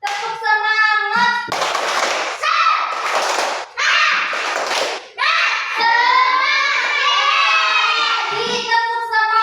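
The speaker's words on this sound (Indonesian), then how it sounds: "Semangat yang keras. Tepuk semangat." Schoolchildren in a classroom do a rhythmic spirit clap: several bursts of group clapping alternate with children's chanting and shouting, while an adult voice also speaks.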